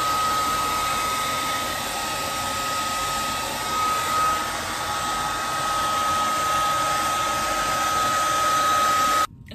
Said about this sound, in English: We're finna blow dry this because it's gonna make me mad.